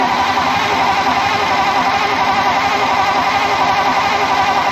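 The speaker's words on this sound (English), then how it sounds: "We just want to bump the engine and make sure everything's working." A vintage Pontiac engine being bumped over, a steady loud mechanical churn with a dense, continuous rumble and no pauses, heard close up with no talk.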